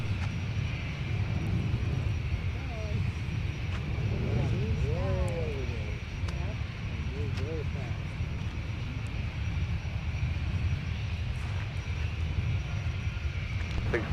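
At Minneapolis–St. Paul airport, an airliner rolls for takeoff on runway 17, its engines making a steady, loud, broad roar throughout, with brief faint tonal whines rising and falling partway through.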